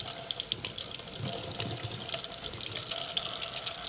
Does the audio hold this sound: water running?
yes